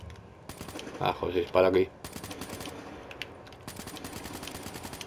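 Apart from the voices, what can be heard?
gunfire in the video game Call of Duty: Black Ops III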